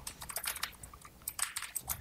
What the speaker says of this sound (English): I hear clapping on the keyboards.